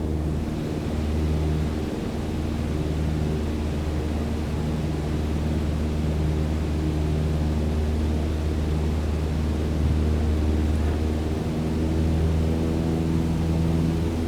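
Cessna 152 engine droning at full throttle during a climb in Microsoft Flight Simulator, a steady loud low hum with a constant rumbling buzz that holds without change throughout, alone with no voices.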